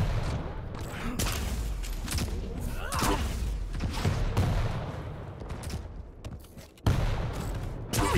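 Rapid gunfire from an online arena shooter, Quake Champions, crackles in bursts of sharp shots and heavy thumps, with mechanical weapon clanks, loud and close, with a few brief announcer-like voice callouts.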